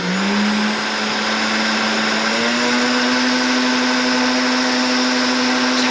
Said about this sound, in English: Total time using the blender is probably about 5 minutes total.